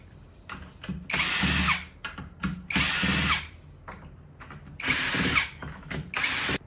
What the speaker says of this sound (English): I just remove all 8 screws for the fender base